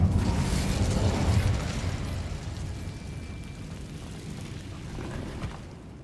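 An Incendio fire spell is cast in Hogwarts Legacy, with a loud whooshing burst of flame right at the start that fades into a lingering rumble.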